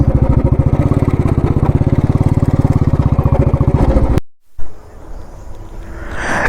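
A motorcycle engine idles in a steady, throbbing rhythm close by in a garden, then cuts out abruptly, leaving quieter outdoor background noise.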